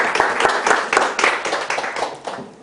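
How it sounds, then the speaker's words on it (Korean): A hall audience at a mission training lecture applauds warmly to welcome a pastor to the stage, with brisk, crisp clapping that holds steady and then tapers slightly at the end. "뜨거운 박수로 모시도록 하겠습니다"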